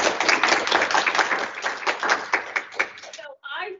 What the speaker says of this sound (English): help me give a round of applause